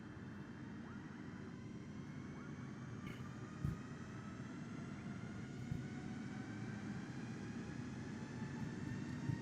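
Steady drone of an airplane engine in a flight simulator game, a constant mid-level hum with faint tonal whines holding throughout.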